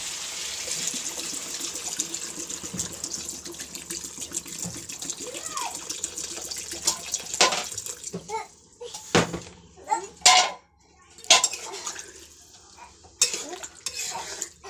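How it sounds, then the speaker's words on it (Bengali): Water is poured into a pot of braised meat, with a running splash followed by stirring and clinks of a metal utensil against the pot, close by, while someone talks. "মাংসগুলো কষা হয়ে গেছে, আমি এবারে জল দেব।"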